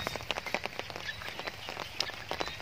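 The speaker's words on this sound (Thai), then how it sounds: "ครึ้มฟ้าครึ้มฝนครับวันนี้ฝนระรึม" Light drizzle falls on a water clover farm field under an overcast sky. Scattered soft patters and small ticks make an irregular, close texture over a quiet outdoor background.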